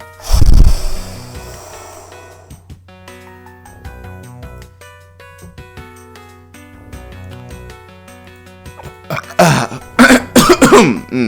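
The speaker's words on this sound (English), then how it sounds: "Guess I am coughing again." A person coughs hard and loud near the start, then after a long quiet stretch breaks into a cluster of rough, repeated coughs and throat clearing toward the end, heard alone over faint music-like tones.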